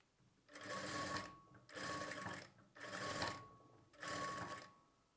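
Sewing machine stitching a blouse sleeve, running in four short, even bursts separated by brief pauses, close and clear with no talking.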